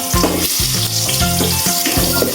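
Onion and garlic sautéing in a pan for pork sinigang: a loud, constant sizzle and crackle of frying up close, broken by regular scraping stir strokes, with no speech.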